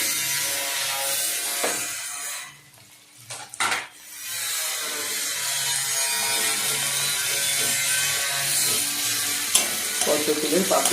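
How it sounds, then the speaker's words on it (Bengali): Chopped onions, a small amount, frying on a medium flame for a Bengali red chicken curry: a steady broadband sizzle with scraping clatter, briefly dropping away for a moment before the frying hiss returns and continues. "পেঁয়াজটাও কিন্তু ওই মিডিয়াম ফ্লেমেই ভাজা হবে"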